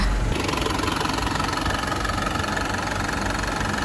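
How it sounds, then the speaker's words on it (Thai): A used 1993 Isuzu TFR pickup with a 90 hp engine idles steadily, a loud close rumble with an even mechanical knock and vibration running throughout. "เดี๋ยวเราจะไปสตาร์ทเครื่องกันนะคะ"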